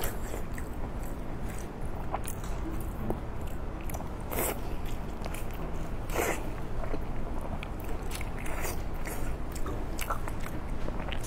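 Salty whole pork belly kimchi with steamed white rice being chewed in a close mukbang, with constant wet mastication and occasional louder crunchy bites, no talking.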